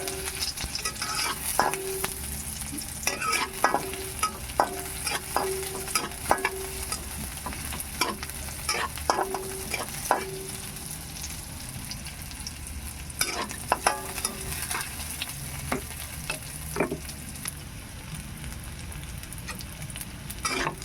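Onion and garlic sauté in hot oil for squash stew, a steady sizzle with repeated scrapes and clinks of stirring all the way through, close and fairly loud with no talking.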